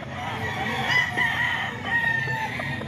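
A banded rooster crows nearby in a clear, drawn-out call with a couple of strained rising notes, over a faint background murmur.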